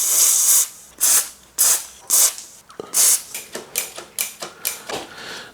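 Short spray bursts of lube hit a road bike brake: several loud hissing blasts followed by a quick run of rapid, lighter spritzes, close and with no talking.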